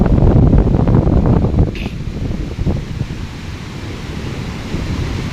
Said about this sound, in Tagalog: makikita po natin ang napakalakas po ng alon